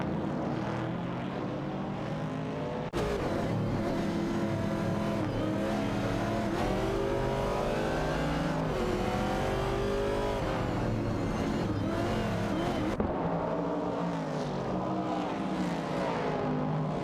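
Engines of race cars in a racing video game roar continuously and loudly, their pitch rising and falling through gear changes as several cars pass, with a sharp shift in tone near the start and again late on.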